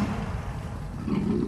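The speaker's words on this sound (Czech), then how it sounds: "Nemohou příst, ale řvát ano a pořádně." Deep, rumbling lion roars swell from close by as lions feed, rising again near the end, with a growling, throaty texture throughout.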